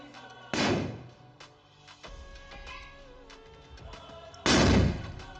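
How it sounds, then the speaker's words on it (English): Two loud, sharp blasts from a homemade cotton bomb firecracker, each a short booming burst, separated by a few seconds of quieter background noise. "It exploded quite powerfully, my friend."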